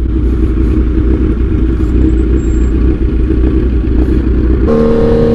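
A motorcycle engine drones steadily up close with road rumble and wind, rising briefly in pitch near the end.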